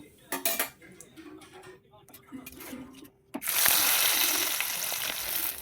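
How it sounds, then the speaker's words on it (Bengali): Vegetables tipped into a pan of hot ghee with cumin and a bay leaf, first clinking utensils and pot knocks, then a sudden loud, sustained sizzle as they hit the fat and are stirred. "এবারে দেখো আমি সবজিগুলো দিয়ে দিলাম এবার সুন্দর করে নেড়ে চেড়ে একটু হালকা ভেজে নেব"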